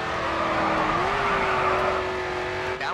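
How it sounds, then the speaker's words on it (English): A car drifting through a corner in the racing game Grid 2, with a loud, sustained engine whine and tire squeal that rises slightly as the slide begins, heard alone and up close. "Next corner, let's see a drift."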